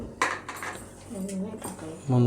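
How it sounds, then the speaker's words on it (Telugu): Egg being mixed with cornflour and curry leaves in a bowl for chilli egg, with soft scraping and clinks of utensil against the dish, close by, under a speaking voice. "వీటిని మిక్సింగ్ అట్లా కలుపుకోవాలి."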